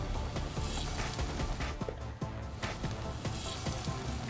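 Falafel patties shaped like burger patties fry in a pan, giving a dense, continuous crackling sizzle up close with small pops scattered throughout and no talking.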